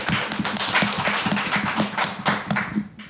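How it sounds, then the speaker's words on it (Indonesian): A small studio audience claps in a quick, dense patter of overlapping hand claps, close and fairly loud for a few seconds on an Indonesian talk show panel. "Oke, tepuk tangan dong"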